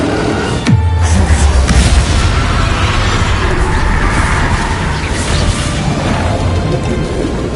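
A heavy magical blast booms at the start of a Hogwarts Legacy duel as Expelliarmus is cast, with a falling whoosh that gives way to a dense, sustained roar of combat effects and crackling energy.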